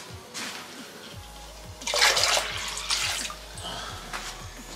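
Water flows and trickles into a home hydroponic setup, with a low steady hum underneath and rhythmic drips, the splashing swelling midway and staying fairly soft.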